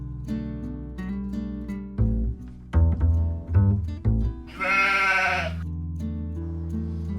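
Sheep on a chalk grassland nature reserve bleat several times in close succession, loud and near, with one high, drawn-out, wavering call standing out amid the lower, shorter bleats.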